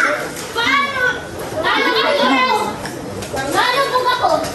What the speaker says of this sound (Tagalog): Dito naglalangoy ang mga bata.